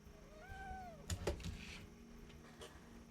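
A single orange cat lets out one drawn-out meow up close, followed by a few soft thumps and rustles in a quiet room.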